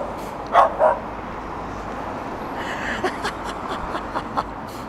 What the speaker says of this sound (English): Oh, doggies! Doggies!